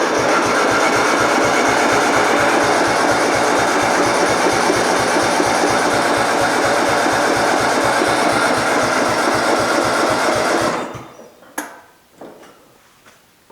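A Murray Widebody LT riding mower engine, fresh gas and a recently charged battery, cranks steadily on the starter for about eleven seconds with a rapid even chugging rhythm, close and loud, without catching, then cuts off to a few small clicks.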